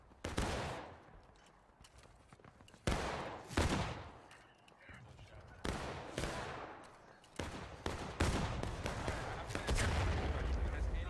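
Civil War battle gunfire, loud shots and volleys cracking in irregular bursts, several sharp reports scattered across the scene and a dense rumbling fusillade toward the end, with shouting voices mixed in.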